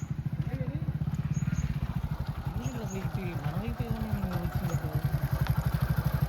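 A motorcycle engine idles and chugs close by with a steady pulsing beat, while people talk over it throughout.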